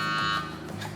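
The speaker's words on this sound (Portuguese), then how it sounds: "Já posso tirar do forno, o alarme tocou" An oven timer alarm sounds as baked bread finishes, heard as a short, loud electronic buzzing tone with steady harmonics that fades slightly after a moment.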